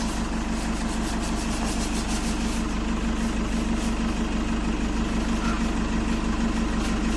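A Toyota HiAce Commuter that sat stored in a garage for a year idles with a steady, continuous low engine drone throughout, close and alone with no talking.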